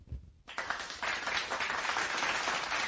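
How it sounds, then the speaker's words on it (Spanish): Applause begins abruptly after a moment of quiet and becomes a steady, fairly faint wash of clapping that continues to the end, heard at the close of a parasitology lecture. "un aplauso para ustedes"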